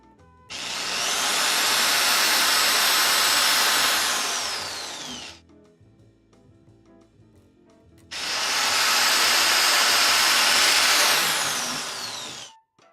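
A corded power drill whines at full speed while driving into wood for a table saw stand, two long loud bursts of about four seconds each with a quiet gap between, close and alone.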